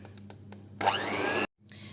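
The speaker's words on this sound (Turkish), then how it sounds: "toz halinde ben krem şantimi döktüm ve mikserle çırpıyorum" An electric hand mixer whirs loudly for under a second as it whips powdered whipped cream mix in a kitchen, then cuts off abruptly, with quieter kitchen sounds before and after.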